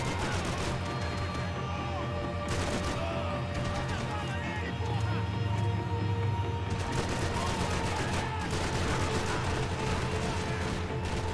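Dense gunfire from the Max Payne 3 video game rattles in rapid bursts and shots over a busy in-game soundscape, fairly loud and continuous, with a person talking at times.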